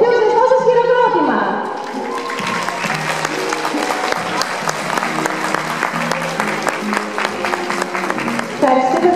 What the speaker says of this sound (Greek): θα θέλαμε το πιο ζεστό σας χειροκρότημα